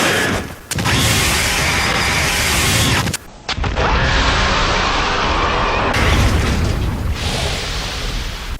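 A hand grenade goes off in the Resident Evil 5 action game. The blast is loud and sustained and rumbles through most of the stretch, followed by a short gap and a second long roar of noise.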